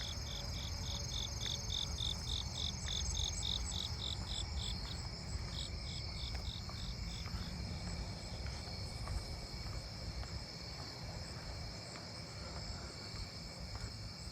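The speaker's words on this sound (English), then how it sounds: "Japanese burrowing cricket." A Japanese burrowing cricket chirps at night in a neighbourhood, a faint, rapid string of evenly spaced pulses with brief pauses over a steady insect hiss.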